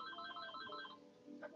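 A house phone rings indoors with a warbling electronic trill repeating in quick pulses at moderate volume, followed by a brief louder noise at the end and no speech.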